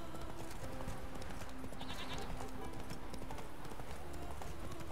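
Horse hooves clip-clopping at speed in The Witcher 3, a steady rhythmic pounding mixed into loud game ambience and music, with someone talking over it.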